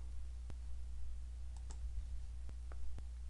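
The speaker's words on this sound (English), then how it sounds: "we're going to click on the custom installation and then click on Next" A computer mouse clicks sparsely during a software installation, with about four faint sharp clicks spaced apart over a low steady hum.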